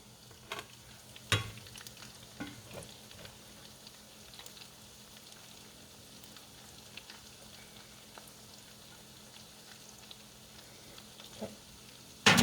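Chickpea and black bean patties frying in a pan give a soft, steady sizzle broken by sporadic sharp pops and crackles, with a louder clatter at the very end and no talking.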